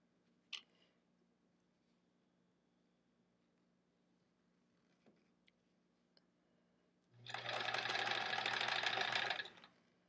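A sewing machine stitches long fabric strips onto a pieced quilt block, running in one steady loud burst of about two seconds near the end after a few faint clicks.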